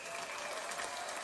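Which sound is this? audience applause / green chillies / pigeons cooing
audience applause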